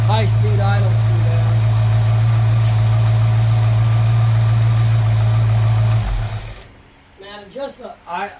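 A 1968 Ford Mustang GT Fastback, set up as a Bullitt tribute, sits at high-speed idle with a loud, steady, droning rumble. It cuts off near the end and gives way to someone talking.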